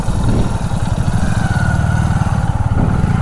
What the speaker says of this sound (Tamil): வண்டிங்க வந்துகிட்டே இருக்குது.